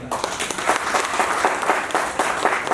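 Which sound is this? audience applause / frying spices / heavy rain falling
audience applause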